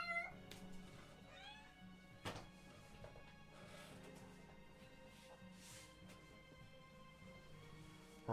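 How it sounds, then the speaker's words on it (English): A cat meows several times in short rising calls over a steady background of game music, fairly faint and close, with no talking. "Let me grab the cat again."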